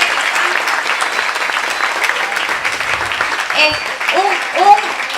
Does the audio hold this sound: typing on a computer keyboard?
no